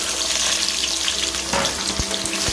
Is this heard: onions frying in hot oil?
yes